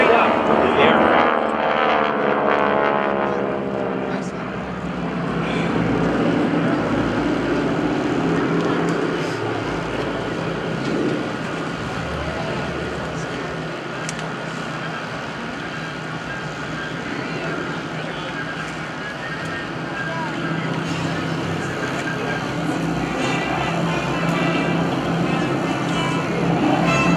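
Propeller aircraft of the GEICO Skytypers team flying in a vertical diamond formation at an airshow, a steady loud engine drone that swells and fades slightly, with a commentator talking over it throughout.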